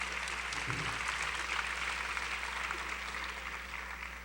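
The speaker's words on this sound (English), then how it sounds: "Let's give them another round of applause." Steady, broad audience applause for a pageant's panel of judges, sustained at an even level throughout with no voices over it, tapering only slightly near the end.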